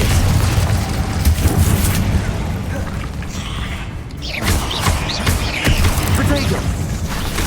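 Confringo fire spells explode in a Hogwarts Legacy battle against spiders, a string of booming blasts and pops layered over a dense, continuous wash of combat noise.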